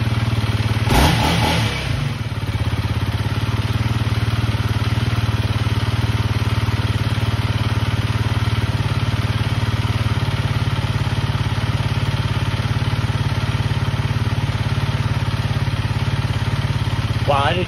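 Honda CRF300L motorcycle engine catching after a brief cranking burst, then settling into a steady, loud, close idle as it warms up in cold weather.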